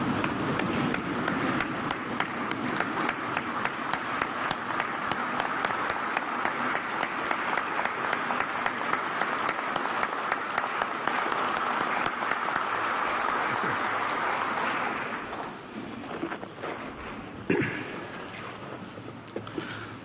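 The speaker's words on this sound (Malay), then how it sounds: "marilah bersama-sama dengan beta untuk berdiri dan memberikan tepukan yang gemuruh kepada semua wira dan wirawati petugas barisan hadapan negara" Sustained standing applause at the opening ceremony of the Malaysian Parliament session, a dense, loud wall of clapping from a large chamber that thins out near the end, with a few voices underneath.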